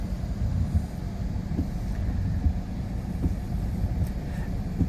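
Nissan Qashqai 1.2 DiG-T N-Connecta idling after start-up, a steady low engine rumble heard from inside the car, even and continuous with no voices.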